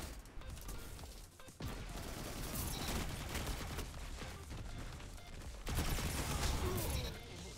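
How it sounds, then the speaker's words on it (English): Rapid bursts of laser-like weapon fire from a Nighthunger in a Destiny Crucible match, dense and continuous with crashes and game effects layered throughout, louder toward the end. "this Nighthunger is an actual laser gun"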